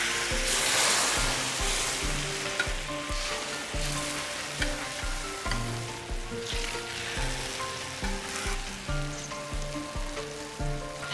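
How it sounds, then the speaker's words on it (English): Boiling sherbet syrup poured over hot Turkish kunefe in a pan, a loud crackling sizzle that bursts at the start and keeps fizzing steadily, alongside a softly ringing musical background. "Add boiling sherbet to the kunefe while it is hot."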